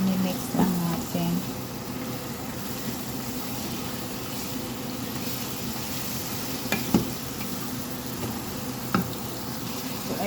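Chicken with sautéed onions is stirred in a pan, giving a steady low sizzle with a few faint scrapes over about ten seconds. Speech-like sounds occur early on.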